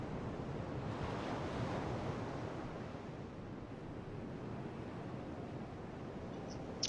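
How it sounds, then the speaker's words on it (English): Loud, steady wind roars through the Dark Souls 2 game world, a continuous broadband rush that swells slightly early on and holds constant throughout with no speech. "the wind is very loud, isn't it?"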